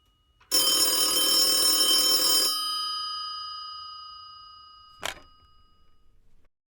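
A telephone rings loudly in one sustained bright burst lasting about two seconds, then its tone fades out, followed by a short sharp click a few seconds later.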